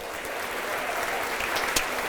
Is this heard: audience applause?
yes